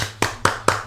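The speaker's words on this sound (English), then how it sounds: "So clap it up for our first guest, Josh Arcilla." People clap to welcome a guest onto a podcast set, with a few sharp, separate claps in quick even rhythm, close and loud.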